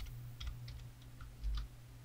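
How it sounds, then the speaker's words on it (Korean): Keystrokes on a computer keyboard while entering text in After Effects, a few soft, irregular taps close by over a steady low hum, with no talking. "컴포지션 클릭하고 필요한 텍스트를 타이핑해 주실게요"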